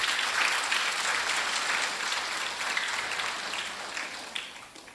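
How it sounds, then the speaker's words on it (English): A crowd claps enthusiastically, dense and sustained, gradually tapering off toward the end. "Let's give them a round of applause"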